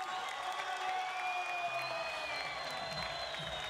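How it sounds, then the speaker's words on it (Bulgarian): Crowd applause at a boxing club's 20th anniversary event in Yambol, honoring boxer Boyan Asenov: soft, distant, continuous clapping with a faint murmur of cheering, steady throughout. "Заслужени аплодисменти за Боян Асенов"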